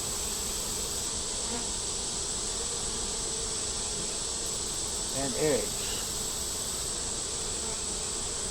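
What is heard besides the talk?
honey bees on hive frames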